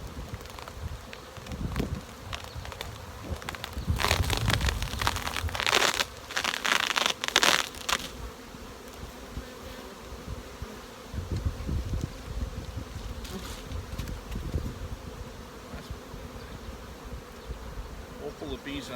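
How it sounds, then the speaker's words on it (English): Dense, steady buzzing of many honey bees close by inside a hive, with louder bursts of crackling and rustling in the middle and near the end. "it's absolutely full of bees"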